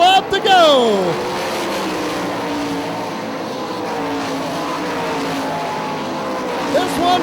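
Sprint cars roar around the Hartford Speedway Park dirt track in a 2007 race, loud close engine whine with a pitch-sweeping pass-by at the start, steady drone throughout, and an announcer talking over it.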